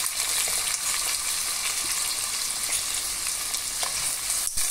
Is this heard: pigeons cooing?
no